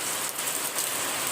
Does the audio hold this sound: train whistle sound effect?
no